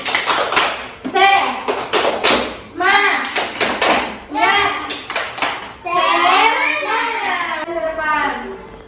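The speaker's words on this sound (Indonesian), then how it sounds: "Tepuk semangat." Children at an Islamic religious education lesson perform the 'tepuk semangat' clapping chant, rhythmic bursts of claps alternating with sung chanting voices in a steady patterned beat.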